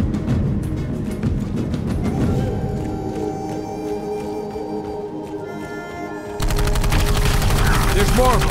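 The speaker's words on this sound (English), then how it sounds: "They must have had the gunfire." Gunfire in the video game Dark Void, with rapid automatic bursts and sharp shots over a soundtrack that swells louder partway through.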